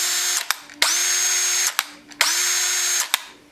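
A new Craftsman cordless drill with a built-in brake, run on its second speed in short bursts: two steady high whines that spin up and stop abruptly, each framed by sharp trigger clicks, close and loud without speech.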